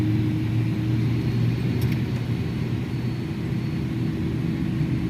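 iniBuilds Airbus A300 jet taxiing in a flight simulator game at Gold Coast, a steady loud engine drone with a low hum and broadband roar, continuous throughout with no talk.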